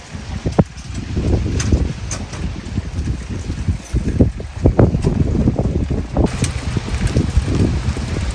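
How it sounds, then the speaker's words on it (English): A strong wind roars and gusts outdoors during an ice storm, a rushing, buffeting noise with bursts of microphone wind noise and a few faint rustles and knocks in the background. "This wind, man."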